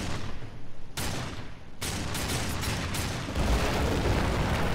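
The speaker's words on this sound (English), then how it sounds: "I can shoot at the shadow bombs." Shadow bombs being shot and bursting in Darksiders 2 (Deathinitive), heard as dense, loud blasts and rumbling gunfire-like booms with sharp bursts near the start and a continuous explosive roar throughout.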